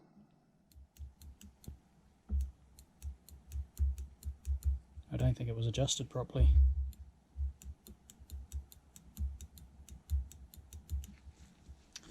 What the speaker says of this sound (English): you could hear a click as soon as you move the throttle